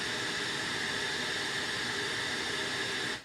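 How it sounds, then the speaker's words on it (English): Steady, loud broadband hiss of white noise from a synthesizer oscillator on an Akai Force, unchanging throughout, then cutting off abruptly at the end. "bring up oscillator 2, which is set to white noise"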